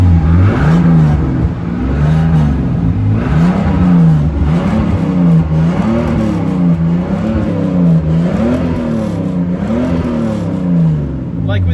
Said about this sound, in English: This just sounds like a BMW inline 6.